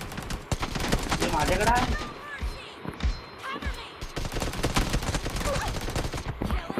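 Rapid bursts of automatic gunfire in the mobile shooter BGMI, sharp repeated cracks in quick strings across the whole stretch, with a player's voice talking over the shooting.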